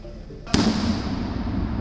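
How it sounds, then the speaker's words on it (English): A single explosion bursts suddenly and then trails off into a broad, rumbling roar that lingers for over a second. "Explosions."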